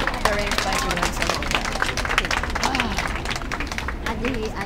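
Loud, dense applause from a wedding crowd fills the clip, with cheering voices and chatter mixed into the steady clapping.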